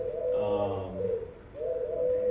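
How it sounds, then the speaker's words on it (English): Pigeon cooing used as an alert sound in a video game, a few soft low coos in a rolling rhythm, close and clear, with someone talking over part of it. "that sound you heard is one of the pigeons trying to alert you that there's a person like under it"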